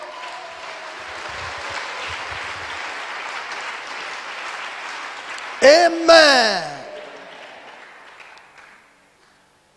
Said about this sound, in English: Give a clap offering to Jesus.